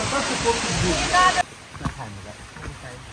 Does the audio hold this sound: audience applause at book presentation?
no